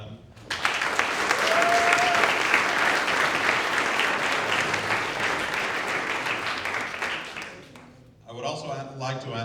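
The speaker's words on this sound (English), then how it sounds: "so a round of applause for them." An audience at an award ceremony gives a sustained round of applause, dense clapping lasting several seconds before fading, followed by a voice beginning to speak.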